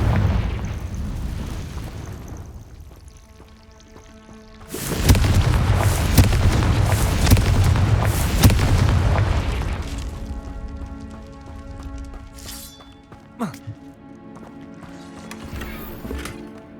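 Confringo fire spell blast in Hogwarts Legacy on PC: a loud roaring explosion about five seconds long that swells up out of quieter game ambience, then fades into softer music and small effects.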